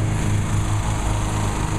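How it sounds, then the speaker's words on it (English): A regular walk-behind lawn mower engine runs steadily at night, a close, continuous droning hum with no breaks and no talk. "We got one guy on a regular lawnmower."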